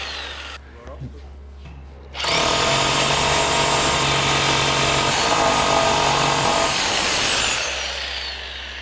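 A power drill bites into a solid concrete wall with a loud, steady grinding whir lasting several seconds, then spins down, with brief quieter handling before it starts.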